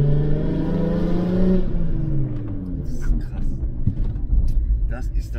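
A Volkswagen VR6 engine revs hard with rising and falling harmonic tones, then settles into a rumbling idle, while people talk over it close by.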